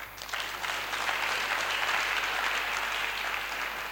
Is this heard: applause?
yes